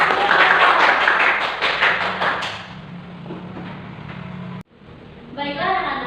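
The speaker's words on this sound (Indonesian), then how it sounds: "Berikan tepuk tangan" Schoolchildren clap together in an elementary classroom, a dense burst of applause that fades after a couple of seconds into quieter room noise and faint voices.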